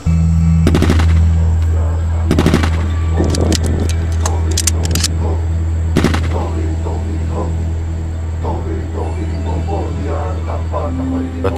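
A few sharp, loud gunshots crack out at irregular intervals during a military shooting exercise, with a cluster early on and another single shot later, while people talk nearby.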